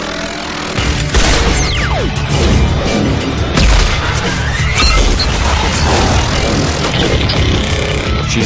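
Shotgun blasts and crashing combat effects in the video game Mass Effect 2, with loud booming impacts and whooshes layered over a dense, busy battle mix.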